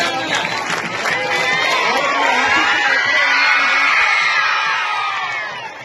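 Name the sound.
children clapping and cheering in welcome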